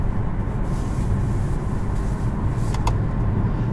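A 2020 Kia Soul GT-Line with a turbocharged engine driving through the city: a steady low road and engine rumble with tire noise from inside the cabin, continuous and even, with a couple of brief clicks near the end.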